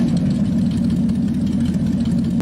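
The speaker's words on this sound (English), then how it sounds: "Let's go up here to our lope idle. We're going to bring it up to our idle speed here." A Ford 534 ci V8 from a vintage F800 truck idles steadily in American Truck Simulator, its loud low rumble holding an even, slightly loping pulse with no talk.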